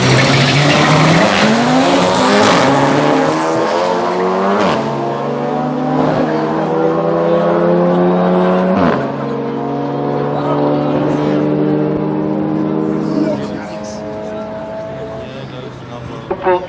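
At a Killarney drag race in Cape Town, a Honda and a turbocharged Polo race side by side down the strip, their loud engines revving and shifting upward through the gears while an announcer talks over them.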